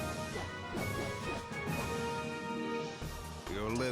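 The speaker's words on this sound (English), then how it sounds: "It just smashes fools into the wall." Kain slams an enemy into a wall in Dissidia Duodecim, a heavy crash amid busy fight effects and music, followed by further impacts near the end.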